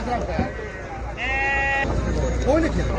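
Sheep bleat repeatedly at a busy livestock market in Mashtaga, Azerbaijan, with a clear nearby bleat and fainter ones around it, heard over constant crowd chatter and people bargaining.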